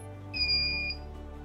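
A wheelchair blind spot sensor sounds a short electronic alert, a single clear tone lasting about half a second over a faint background hum.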